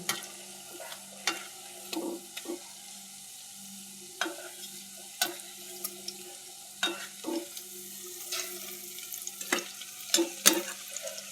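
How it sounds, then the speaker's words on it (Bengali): Bitter gourd leaf pakoras frying in oil over a medium gas flame and being turned, a faint sizzle punctuated by irregular taps and clinks of a utensil in the pan. "গ্যাসের ফ্লেমকে মিডিয়ামে রেখে উল্টে পাল্টে ভেজে নেব।"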